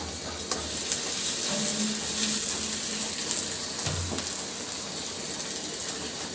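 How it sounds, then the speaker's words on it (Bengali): Onion frying in oil with garlic and cumin paste, a steady close sizzle with stirring scrapes running throughout, no voices. "পেঁয়াজটা খুব সুন্দর করে ভাজি করে নেব। দিয়ে দিচ্ছি এর ভিতরে রসুন বাটা, জিরা বাটা,"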